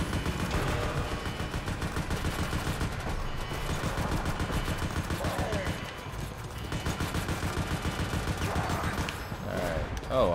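Rapid video-game gunfire in Resident Evil: ORC, dense continuous bursts running for several seconds until the weapon runs dry, fairly loud with faint voices.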